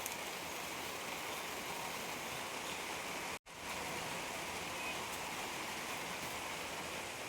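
Rain falls steadily outside during cooking of a prawn curry, a dense even hiss that holds for several seconds, cuts out abruptly for a split second, then resumes unchanged, with no voices.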